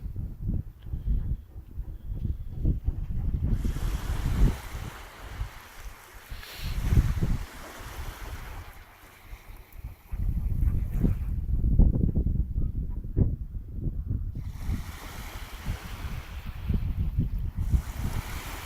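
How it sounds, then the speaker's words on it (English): Atlantic Ocean waves wash in steadily at Galway Bay while wind buffets the microphone, producing a continuous broadband rush that swells and eases in surges throughout, with no one talking. "So this is the Atlantic Ocean."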